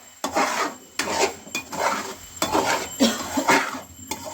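A utensil scrapes and stirs tomato masala roasting in a pan for aloo vadi sabzi, giving rhythmic gritty rasping strokes against the metal with a faint sizzle beneath, close and fairly loud.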